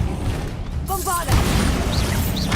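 Bombarda blasting spell detonating in the video game Hogwarts Legacy, a loud booming burst of explosive noise over busy game sounds, with voices talking around it.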